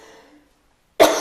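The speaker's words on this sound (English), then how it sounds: "I'm so sorry, I'm going to cough like that." A single sharp cough from a dry throat at a poetry and spoken word night, loud and close, following a stretch of quiet after a voice fades out.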